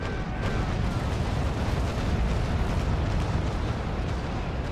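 A frigate fires a cannon broadside in the naval game Naval Action Legends, a heavy rumbling boom with a burst of blasts near the start that settles into a sustained low roar, with no talk.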